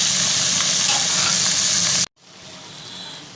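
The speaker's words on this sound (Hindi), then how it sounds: "अब मैं इसमें कीमा शामिल कर दूँगी।" Minced meat hisses loudly as it goes into a hot pan with chopped garlic and ginger, giving a broad steady sizzle that cuts off abruptly and then resumes more softly.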